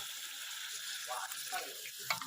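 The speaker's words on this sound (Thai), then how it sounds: "เริ่มจาก ผัดปลาดุกใส่พริกก่อนนะครับ ให้มัน สุกก่อนนะครับ" Catfish stir-fried with chili in a pan, giving a steady, faint hiss of frying with a few soft scrapes of stirring near the end.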